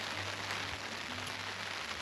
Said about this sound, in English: And just like that, the rain is back.